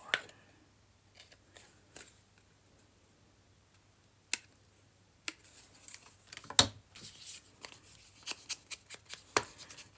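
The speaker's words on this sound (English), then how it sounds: "I think I need to just cut a little bit on the corners" Scissors snip the corners of paper journal tags to round them, giving sparse sharp clicks at first and then a denser run of small cuts and paper rustle, close and quiet, with no speech.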